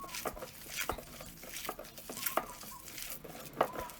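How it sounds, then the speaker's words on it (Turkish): Meatball mixture of minced meat, tomato paste and grape molasses being kneaded by hand, giving soft, irregular squelching and patting sounds, quiet and close, with no talking. "Şimdi köftemi güzelce yoğurarak hazırlıyorum."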